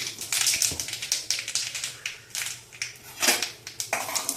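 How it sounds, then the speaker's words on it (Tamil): Mustard seeds pop and splutter in hot oil in a pan while mango pickle is being cooked, giving a close run of sharp, irregular crackles and taps. "கடுகு போடுறேன், கடுகு பொரியட்டும்"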